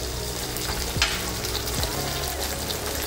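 A pan of restaurant-style paneer chilli sizzles steadily as chili sauce goes in, with a couple of soft stirring clinks, close and without any talking.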